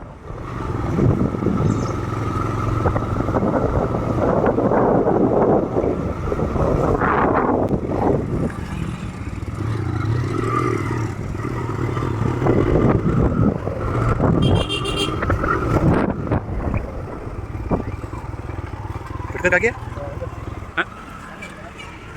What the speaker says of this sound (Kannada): ಅದಕ್ಕೋಸ್ಕರ ಬೈಕ್ ಮೇಲೆ ತಗೊಂಡು ಹೋಗ್ತೀನಿ ಮೀನನ್ನ